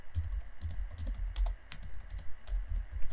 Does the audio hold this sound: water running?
no